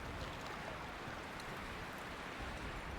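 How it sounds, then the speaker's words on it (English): Steady broadband rush of flowing water in the Myst video game, a continuous even wash with no breaks and no voices. "there's sort of like a microphone here catching the water"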